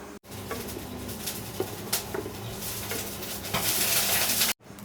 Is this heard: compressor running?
no